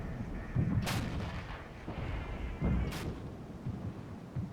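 Distant artillery bombardment in a WW3 war video game: two sharp reports a couple of seconds apart, each followed by deep rumbling booms over a steady low roar of battlefield noise, with no talk.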